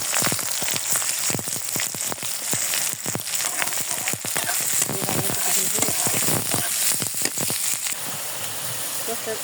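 Cardamom, cinnamon, onion and green chilli frying in hot oil for a chicken curry give a steady sizzle with frequent sharp crackles and pops close by, and speech can be heard faintly at times.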